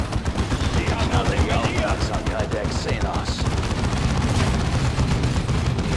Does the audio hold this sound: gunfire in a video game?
yes